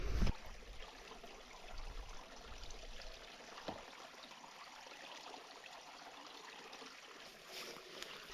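A small mountain stream in Lapland flows and trickles steadily at close range, a soft continuous wash of water with no voices and a brief knock at the start.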